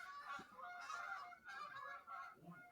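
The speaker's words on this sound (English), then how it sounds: "There's a lot of geese flying by." Several geese honk in a ragged series as a flock flies past outdoors, the calls fairly distant and overlapping in bursts across the few seconds with no talking.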